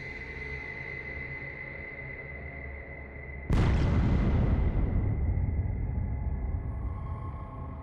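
Indoor fireworks in a bar and restaurant ignite flammable decorations, a sudden loud burst of roaring, crackling flame cutting through steady background hum, then a sustained whooshing blaze that continues without any talk.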